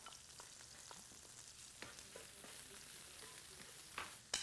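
Garlic and onion sizzling softly in beef fat dripped from the meat, a faint continuous frying hiss with a few small pops and a louder clink or stir near the end.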